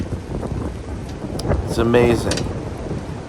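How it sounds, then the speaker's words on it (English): A spring thunderstorm rolls over an off-grid sawmill site: a low rumble of thunder swells mid-clip over steady rain and wind noise, while someone speaks briefly. "how such a beautiful morning has turned into such a stormy afternoon"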